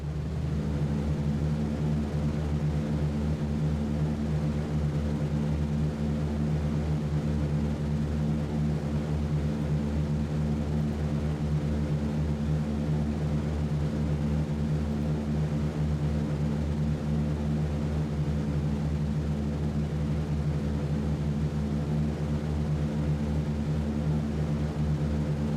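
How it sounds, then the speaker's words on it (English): Four-engine B-17 bomber propellers in a World War II flight game, a steady loud droning hum with layered engine harmonics that holds evenly throughout, no speech. "You are cleared for takeoff."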